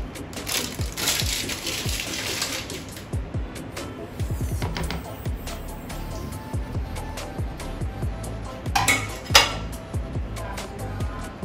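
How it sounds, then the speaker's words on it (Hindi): Vanilla custard powder is stirred into a mixture in a pan to keep lumps from forming, with repeated close scraping and clinking of a utensil against the metal pan, and liquid swishing in busy bursts. "इसमें गुठली ना बने, इसको अच्छी तरह हम मिक्स कर रहे हैं"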